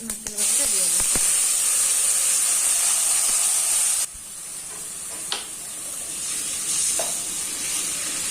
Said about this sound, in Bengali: নারকেল বাটাটা দিয়ে দেবো